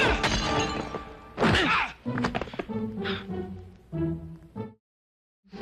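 Glass shatters loudly in a Filipino action film scene, a sharp crash bursting through music and effects, followed by a few smaller impacts before the sound cuts to silence.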